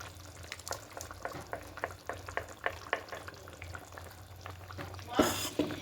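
Small fish frying in a pan with a soft, steady sizzle and repeated scraping stirs, then a sudden loud hissing burst as spice paste hits the hot oil near the end.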